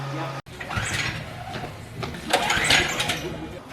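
A modified Barbie Jeep ride-on toy with a reinforced brake and a larger drive sprocket starts up, its motor revving roughly and building up, while people talk nearby.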